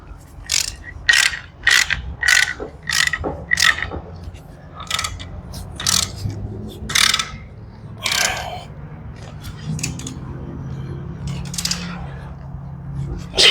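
A ratchet wrench tightens torque converter bolts during a transmission swap, sounding as a close, loud series of sharp clicking bursts in an uneven rhythm, with brief pauses between the pulls and quieter mechanical handling underneath.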